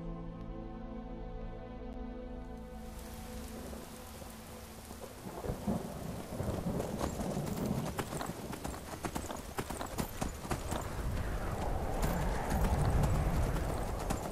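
A horse gallops in the video game Skyrim, its rapid rhythmic hoofbeats loud and continuous after a quieter opening, mixed with rain and thunder-like rumble.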